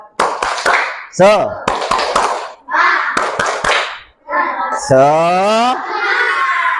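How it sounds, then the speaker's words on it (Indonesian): Schoolchildren in an elementary school classroom perform a rhythmic spirit clap, a short run of sharp claps broken by loud young voices chanting and shouting in time. "Tepuk semangat."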